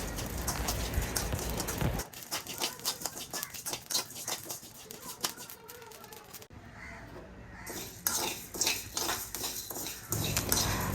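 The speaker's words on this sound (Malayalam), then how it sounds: "അരി വറുക്കുന്നേരം എല്ലാ ഭാഗത്തും ഒരേപോലെ മുരിഞ്ഞ് വന്നോട്ടെ" Rice being dry-roasted and stirred in a pan for a snack, a close rattling patter of grains scraping and tumbling in irregular bursts, with quieter pauses between stirs.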